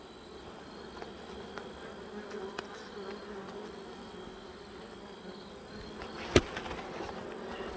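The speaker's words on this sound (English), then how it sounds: "Bees are gonna start congregating on the front." A steady, low buzz of honey bees at a hive hums continuously, droning close by, with a sharp click or knock near the end.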